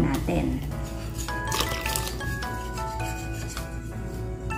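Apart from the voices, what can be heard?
stirring pancake batter with water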